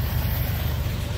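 A classic diesel locomotive engine at Dorval station in Montreal gives a steady, low, throbbing rumble that holds through the whole moment with no voices.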